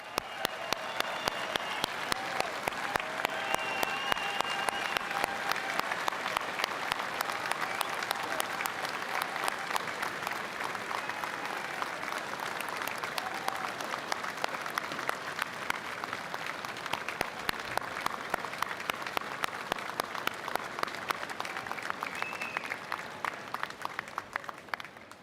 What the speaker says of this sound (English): how about a big round of applause for all of this year's medals winners?